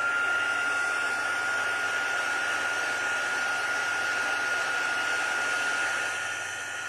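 A heat tool blows a steady, even whine of hot air over embossing powder on a card, with a constant fan hiss lasting the whole stretch, close and unbroken, with no talking.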